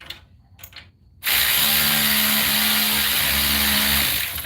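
An AC Delco power tool loosens exhaust bolts on a 2018 Chevy Silverado, starting abruptly after a short quiet stretch with a loud, steady whir and a low, faintly pulsing ratcheting hum that holds to the end.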